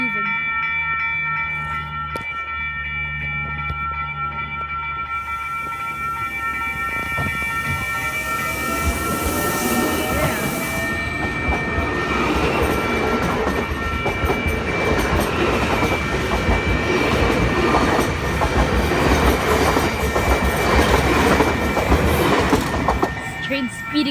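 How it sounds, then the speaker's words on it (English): A train rolls through the Fruitvale Road level crossing in West Auckland, New Zealand, with a crossing bell ringing at first, then a steady, building rumble and clickety-clack of wheels as it gathers speed close by, with some talk underneath. "Train speeding up."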